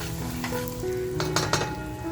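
Homemade masala hits hot oil already seasoned with garlic and asafoetida, a loud close sizzle with a couple of sharp clinks of a spoon against the pan and a brief faint whistle-like tone underneath.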